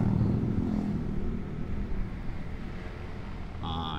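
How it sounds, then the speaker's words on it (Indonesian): A motorcycle on a Sunday-morning group ride near the Jatiluhur reservoir in Indonesia rumbles with a low, steady engine drone that stays constant and fairly close, with a brief high tone near the end. "ini dia suaranya motor Dodi Rider."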